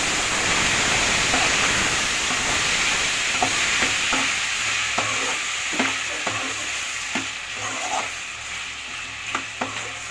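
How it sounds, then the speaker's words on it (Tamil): Chopped tomatoes sauté in hot oil for a homemade chicken gravy, giving a dense, loud sizzle that eases slightly over time. A spoon stirs and taps against the pan in irregular knocks. "கொஞ்சம் நல்லா வதங்கட்டும்."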